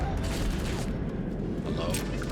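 Rapid automatic gunfire from a rifle in a space video game, a sustained burst of shots with a brief lull, loud and continuous under a faint background.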